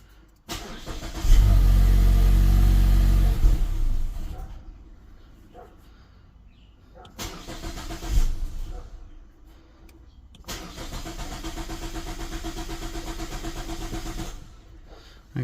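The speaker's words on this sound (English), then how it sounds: "Then we need to start the car." A 2017-2018 third-generation Mazda 3 with its fuel pump fuse pulled cranks and fires loudly, runs briefly and dies down, then is restarted twice more, the last time running steadily for several seconds.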